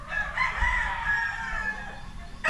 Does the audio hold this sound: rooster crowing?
yes